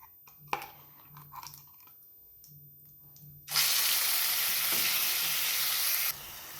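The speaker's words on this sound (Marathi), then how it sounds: "आता आपल्याला हा मिक्सरला काढलेला मसाला घालायचा आहे" Ground masala paste from the mixer hits hot oil with cumin for a tondli masala curry, erupting into a loud, steady sizzle after a few quiet stirring clicks, then easing slightly near the end.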